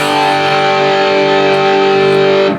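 A distorted electric guitar plays a short sustained riff, loud and upfront, cutting off abruptly after a couple of seconds.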